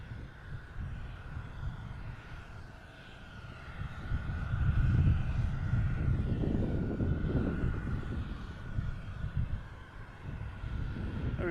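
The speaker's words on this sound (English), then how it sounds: "We have a Delta heading out to 22 right." A Delta airliner heading out to runway 22 right at Boston Logan Airport: a broad, rumbling jet engine roar that swells in the middle and then eases, heard from a distance with no talking.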